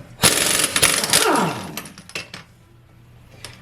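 An impact wrench loosens lug nuts on a 2013 Ford F150 with a 21 mm socket, giving a loud rattling burst of about a second that winds down, followed by a few metallic clinks.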